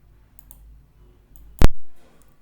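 A single sharp mouse click rings out close and loud against a quiet room hum, followed by a brief soft tail.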